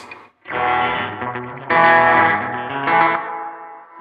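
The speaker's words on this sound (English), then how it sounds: "number 5 is just your first delay head, so just delay with reverb" A sustained, harmonically rich instrument runs through a BOSS RE-20 Space Echo set to its first delay head with reverb, producing loud chords that swell in two strong surges and trail into a smeared, echoing tail.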